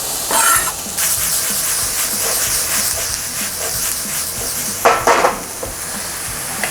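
Onions frying with ground turkey in olive oil, a steady bright sizzle and hiss that runs throughout, with a few clanks of a utensil against the pan near the start and toward the end.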